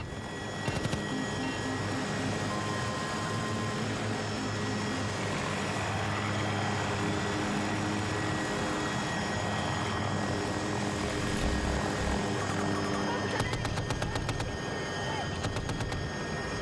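A helicopter in the Battlefield 2042 video game drones on steadily for the whole stretch, with rapid rhythmic clatter and bursts near the end of the stretch.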